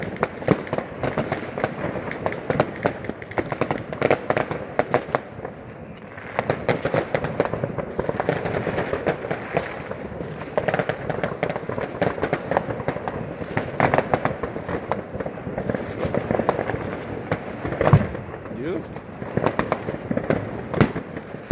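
Repeated dull bangs and crackling bursts of New Year's Eve fireworks going off in quick succession, fairly close, a continuous barrage with a few louder thuds.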